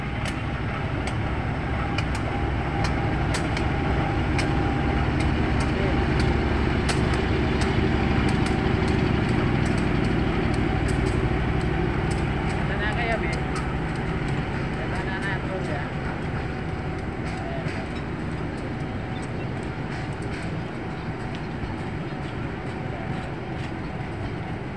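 A train rumbles steadily through Jatinegara station for the whole stretch, loud and close, with a continuous rolling roar and scattered clicks from the rails.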